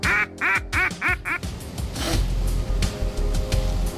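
During a duck hunt, a quick run of five or six loud, nasal duck quacks up close, then a denser, overlapping chatter of quacking over low background rumble.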